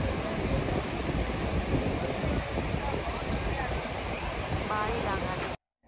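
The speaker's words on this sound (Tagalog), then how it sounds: "Napakalakas ng hangin," Strong seaside wind roars steadily across the microphone in a dense, continuous rumble, with faint voices beneath it before the sound cuts off abruptly.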